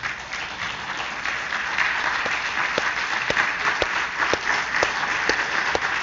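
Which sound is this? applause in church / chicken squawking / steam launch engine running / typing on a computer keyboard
applause in church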